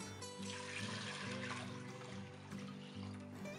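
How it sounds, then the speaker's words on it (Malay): Two litres of water pour into a cooking pot of dal for dhal curry, a steady close gurgle and trickle with a shifting hollow tone as the pot fills, alone and fairly quiet. "Kita campur 2 liter air"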